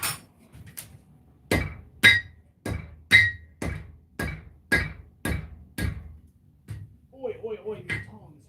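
A hammer striking metal on an anvil while a knife is forged, about a dozen sharp, ringing clangs in a steady rhythm, followed by a person talking.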